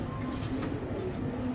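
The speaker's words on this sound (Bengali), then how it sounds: "এটা হলো অরিজিনাল অ্যান্ডালুজিয়ান রিংয়ের কবুতর।" An Andalusian racer pigeon at a pigeon farm gives soft, low, throaty coos, faint and slightly muffled against a steady background hum, with no talking.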